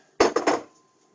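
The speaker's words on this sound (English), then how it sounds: "Keep on giving it a mix." Spoon or spatula clinking and scraping against a bowl while blueberries are mixed into scone batter, three quick close knocks in a short burst, then quiet.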